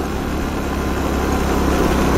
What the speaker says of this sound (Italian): Questa è la mia moto scassata